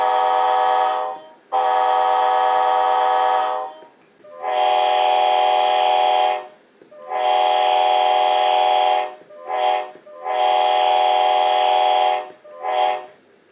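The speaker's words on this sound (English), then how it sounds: "the horn being played is on function 2 only." A DCC sound decoder air horn in an Athearn Genesis ATSF caboose model sounds in several long blasts separated by short pauses, with a couple of brief toots near the end, loud and alone.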